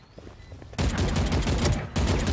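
Loud rapid gunfire in the tactical shooter Valorant, fired through a wall, with a dense automatic burst starting abruptly, briefly pausing, then resuming close and alone.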